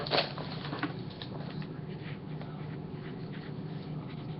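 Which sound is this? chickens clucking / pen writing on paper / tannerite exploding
pen writing on paper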